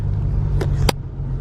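A car idles as it is eased into a garage, a steady low engine rumble running throughout with two brief sharp clicks or bumps near the middle; no voices.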